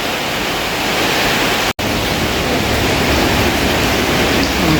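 Heavy rain, a steady loud dense hiss that drowns out everything else, broken once by a brief dropout.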